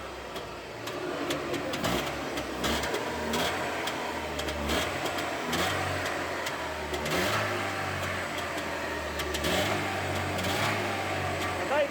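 A roughly fifty-year-old car with its charging warning light on runs its engine, which settles to a steady low idle. The rumble is continuous and fairly loud, with small mechanical ticks over the top and no clear speech.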